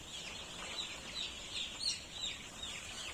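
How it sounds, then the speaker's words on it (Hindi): Young chicks on a poultry farm feeding at red turbo feeders: a steady bed of high, thin peeping and chirping from many birds, with brief louder cheeps over it, heard at moderate distance and continuous throughout. "अब तीसरे दिन चिक्स इसमें बहुत आसानी से फीडिंग कर लेते हैं।"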